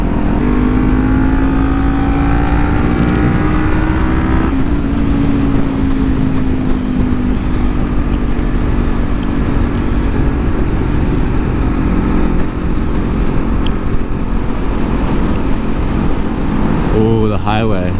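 A Kawasaki Ninja 400 motorcycle cruises on a highway, its engine droning steadily under heavy wind rush with a rising shift in pitch early on, loud and constant throughout.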